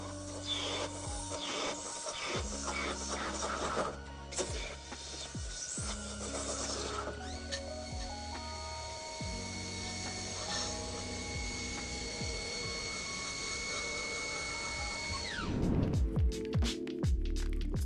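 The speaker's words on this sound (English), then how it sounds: "Metal diminishes layer by layer, leaving behind a perfectly machined component." Heavy metal machining with a large cutter shaving a component down layer by layer, giving a loud continuous grinding, rasping drone with shifting tones and a burst of clattering near the end.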